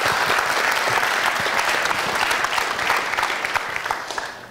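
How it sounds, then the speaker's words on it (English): Audience at a web developer conference session claps after a talk, a dense, loud wash of hands that stays steady and slowly fades toward the close, with no one speaking over it. "Let's give PP Hay an applause"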